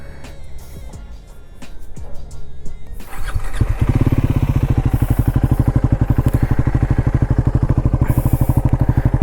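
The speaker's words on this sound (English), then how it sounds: "let's quickly turn on the ignition and feel how the exhaust is." A Triumph Scrambler 400X motorcycle engine starts after some clicks and settles into a loud, steady idle with a fast rhythmic thumping beat, close by.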